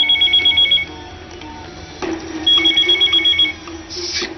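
A telephone rings in two bursts of rapid electronic trills with a short gap between them, loud and close, in a Bhojpuri film scene.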